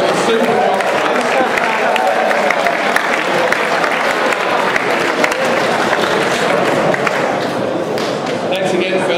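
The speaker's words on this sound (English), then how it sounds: "Everybody else give them a round of applause" A crowd applauding a group of men who stood up, giving a sustained wash of dense clapping at constant loudness throughout, with crowd noise mixed in.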